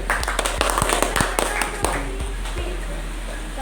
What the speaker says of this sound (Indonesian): Beri tepuk tangan yang meriah untuk paslon nomor 2